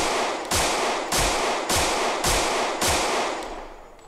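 Six loud, unsilenced gunshots from a firearm in Project Zomboid ring out at roughly half-second intervals, each a sharp crack with a short decaying tail, steady and close with no voices.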